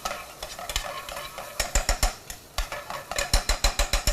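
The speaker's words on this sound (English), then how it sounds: "So turn the heat up again. And we can almost start to dry fry this." Turmeric and spices dry-frying in a hot pan, with a steady low sizzle under repeated scraping stirs that grow quicker and more rhythmic toward the end; no voices.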